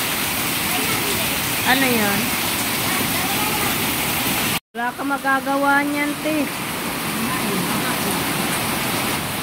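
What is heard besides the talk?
heavy rain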